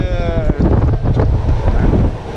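Gale-force wind, around force 10, roars over a sailboat on the Atlantic, buffeting the microphone in a loud, continuous gusty rush with sea noise beneath.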